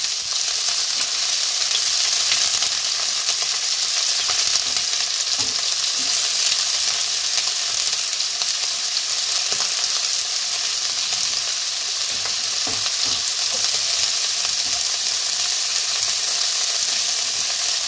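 Chopped onions fry in hot oil with a loud, unbroken sizzling hiss, close and steady, with faint stirring clicks scattered underneath and no voices.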